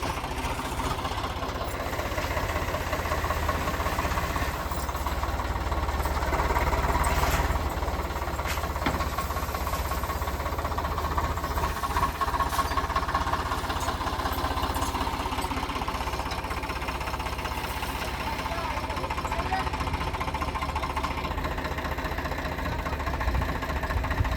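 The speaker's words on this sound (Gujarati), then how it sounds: "લગાડી દીધું આપણું ટ્રેક્ટર" A tractor engine runs steadily throughout, a loud continuous low rumble with a knocking, idling chug and no talk.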